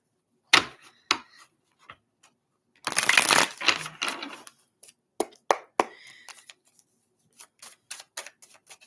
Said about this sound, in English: one more good shuffle for Lizzie.